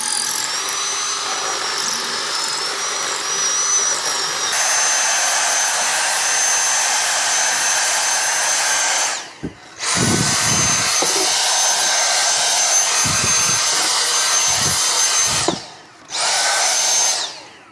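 Dyson vacuum cleaner about eight or nine years old, running with a loud, high-pitched motor whine and airflow roar, cutting out briefly twice and restarting, no talk.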